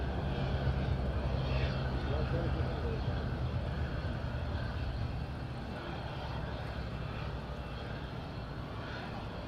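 Aircraft engines roar on the runway at Madeira Island Airport on a windy day as a plane takes off, a steady broad rumble with voices talking over it throughout.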